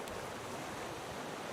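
A big ocean wave washes over a raft in the survival game Raft, giving a brief, steady roar of surf and rushing water with no voices.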